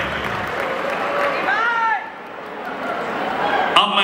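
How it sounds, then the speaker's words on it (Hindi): A crowd at a live concert claps steadily for a guest called to the stage, with a loud, dense wash of applause, voices and whistles throughout. "तालियां"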